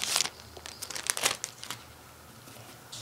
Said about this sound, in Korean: 비닐을 풀어서 꺼내 주세요.